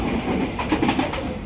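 Two KRL commuter trains built by INKA pass each other on a branching line near Nambo, heard from on board as a steady, moderately loud rumble with rhythmic clacking.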